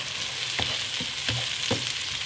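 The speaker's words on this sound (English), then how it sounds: "Cook this till the tomato softens" A medium tomato cooking in a pan for bee hoon goreng gives a continuous close sizzle, with three or four soft spatula scrapes spaced evenly through it and no voices.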